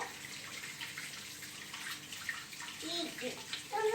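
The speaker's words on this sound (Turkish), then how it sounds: "Ama çok güzel yıka çünkü kabuklarıyla yapacağız değil mi bu işi?" Lemons are rinsed under a running kitchen tap, a steady gentle splash of flowing water with small clatters and a voice speaking near the end.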